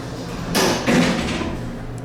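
Doors of a Dover traditional traction elevator at Morehead Laboratories, UNC, slide shut in two bursts of mechanical rumbling and clunking, close and moderately loud, then fade to quiet hum.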